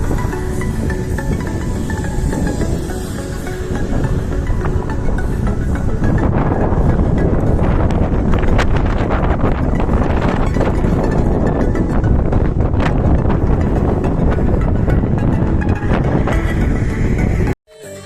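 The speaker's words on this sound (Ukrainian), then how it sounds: "Щось ці дні так вітряно" Strong wind buffets the microphone in a steady, loud roar with rumbling gusts, continuing for most of the clip before cutting off abruptly.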